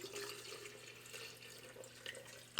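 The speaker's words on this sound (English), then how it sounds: "we are going to pour the simple syrup in this pitcher." Simple syrup is poured from a container into a pitcher while making lemonade, giving a soft, faint, steady liquid trickle that ends with a sharp clunk.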